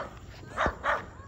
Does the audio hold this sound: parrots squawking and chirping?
no